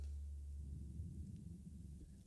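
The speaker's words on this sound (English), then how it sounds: "that's why I hear thunder outside" Low thunder rumbles outside during a storm, faint and distant, a steady dull roll that slowly ebbs, with no talking over it.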